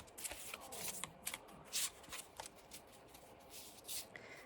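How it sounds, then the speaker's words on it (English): Large Bohemian Gothic tarot cards are shuffled by hand in an overhand motion, giving soft, close papery swishes and slaps in quick irregular bursts, with no talking. "to give these a quick shuffle"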